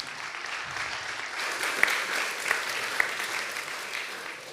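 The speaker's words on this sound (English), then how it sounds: "James, nothing has happened yet, and they're already clapping" Audience applause in a church hall at an election hustings, a continuous wash of clapping from a crowd with a few sharper individual claps standing out.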